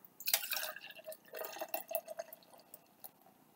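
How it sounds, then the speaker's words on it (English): Busch beer is poured into a glass with close, quiet splashing and trickling that bursts at the start and again midway, then tapers off into light drips. "Let's go ahead and give this a quick pour here."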